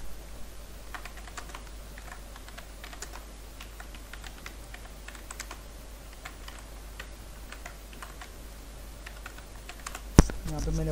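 Someone types an email subject on a computer keyboard, a light run of uneven key clicks that sits quietly under a faint background hum and ends in a single sharper click.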